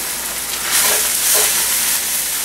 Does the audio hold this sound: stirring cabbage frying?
yes